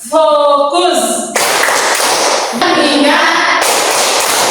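A classroom group clapping game, hands clapping together in short rhythmic bursts with chanted voices between the claps, loud and close.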